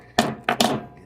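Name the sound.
tapping a melted metal button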